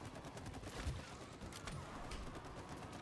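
Gunfire in the co-op video game It Takes Two comes as quick, faint volleys of sharp shots scattered over a low rumbling background.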